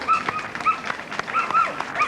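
A German Shepherd dog at a 1982 Sydney Royal dog show gives short whimpers and yips in a quick, uneven series, fairly close and clear.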